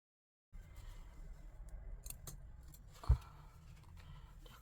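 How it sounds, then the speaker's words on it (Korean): Fabric scissors snip seam allowance while a zipper is sewn onto a Nike-style zip-up jacket; faint, sparse cutting clicks with one sharper thump, quiet room, no talk. "여기는 시접이 모이니까 조금 잘라내시겠습니다."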